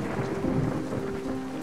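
Steady rain with rolling thunder in the Ocean's Heart game, a continuous loud storm wash with a low rumble and a faint sustained tone underneath, no voices.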